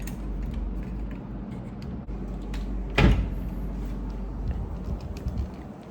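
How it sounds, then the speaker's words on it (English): A door opening and closing in a home in Egypt: a single dull thump lands midway through a steady background rumble, with faint creaks and handling noises around it. "I have to open this door too as well."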